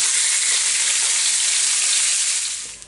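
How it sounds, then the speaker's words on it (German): Veal meat trimmings sear in a hot pan with a loud, bright, continuous sizzle and spatter close by, tapering off as the clip ends. "da gebe ich jetzt meine Abschnitte noch rein und die brate ich auch noch schnell an"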